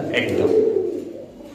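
Domestic pigeons at a market stall give low, steady cooing, close and continuous, with people talking over it.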